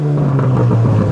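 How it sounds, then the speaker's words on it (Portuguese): A loud, steady motorcycle engine drone with a deep, rough low-frequency rumble, idling close by with a raspy sound from a broken exhaust pipe. "tá um barulho muito louco. A moto tá parecendo uma CB1000."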